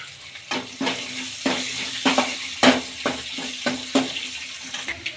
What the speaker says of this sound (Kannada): ಚೆನ್ನಾಗಿ ಫ್ರೈ ಆಗಲಿ ಈಗ ಬೆಳ್ಳುಳ್ಳಿ ಹಾಕ್ಕೊಳ್ಳೋಣ